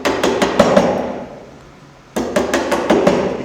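A hammer strikes a chisel cutting a hinge recess into a timber door, giving a quick run of sharp, close metallic knocks, a short pause, then another steady series of blows.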